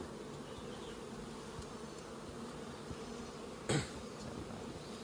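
Dense, steady buzzing of many honeybees, including drones, swarming close by at a hive, a continuous low hum with a brief knock partway through.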